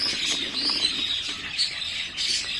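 Small birds chirp in an outdoor aviary that holds grey-green and classic green birds and their chicks, with several clear, bright, repeated tweets close by and a soft rustle underneath.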